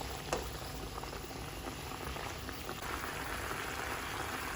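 A pot of fish in coconut milk simmering on the stove, a steady dense bubbling and gurgling that runs continuously at a fairly quiet level, close up, with no speech.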